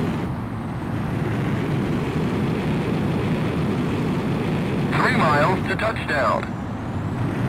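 An F-18E Super Hornet jet approaching a carrier landing in Ace Combat X, a steady loud roaring engine rumble throughout, with a radio voice speaking over it near the end.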